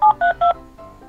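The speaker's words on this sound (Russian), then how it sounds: "Сейчас еще раз позвоню." Telephone keypad dialing tones: three loud, crisp beeps in quick succession, then a fainter fourth tone trailing off.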